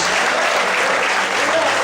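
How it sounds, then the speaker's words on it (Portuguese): Loud, dense applause fills a church as the congregation claps together, a sustained roar of many hands with no gaps. "você pode aplaudir e glorificar muito forte a Deus"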